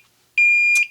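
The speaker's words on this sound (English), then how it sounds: "a buzzer, a 90 decibel beep" A TOPTES CT-580 carbon monoxide detector's 90-decibel buzzer gives a single loud, piercing beep of about half a second, close up and alone after near silence.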